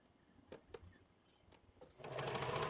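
Sewing machine stitching hem trim pieces for a skirt together, a few faint isolated needle taps and then a fast steady run of stitching that grows louder, close by.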